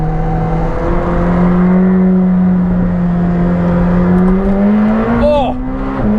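A McLaren 765 LT accelerating hard on the Autobahn, a loud engine whose pitch climbs steadily under acceleration, heard up close from inside the car.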